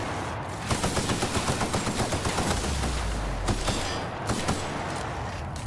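Rapid bursts of automatic gunfire from a firefight in the video game The Outer Worlds, loud and close, repeating in fast rhythmic volleys with no talk over them.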